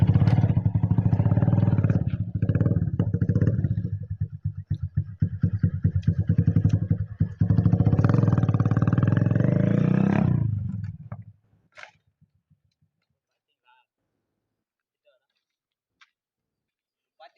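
A Yamaha R15 sport motorcycle doing stoppies roars close by with choppy, pulsing revs and sharp throttle blips for about eleven seconds, then the engine cuts out, leaving near silence and faint clicks.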